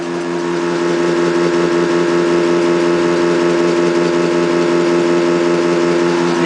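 A homemade three-coil magnet motor spinning at about 350 RPM gives a loud, steady electric hum with a constant buzzing whir, unchanging from start to finish and with no talking.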